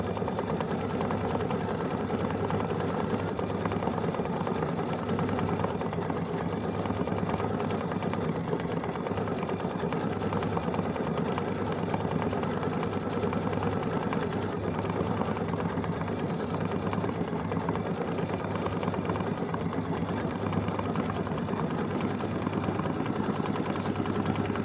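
A sewing machine stitches nonstop in the background of a home quilting sew-along. The hum is steady and even throughout, with no pauses and no voices.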